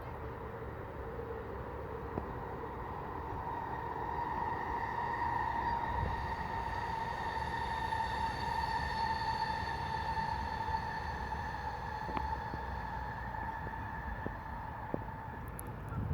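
A train passing by outdoors, a faint, distant low rumble with a sustained tonal hum that swells in the middle and eases off, with a few faint clicks and no talking.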